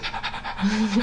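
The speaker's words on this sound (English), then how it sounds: "you might hear in the background this very loud panting and the occasional clunk of a chain or something" A dog pants loudly and rapidly, just back from a walk in hot weather, its quick breaths close up and heard alongside faint background voices.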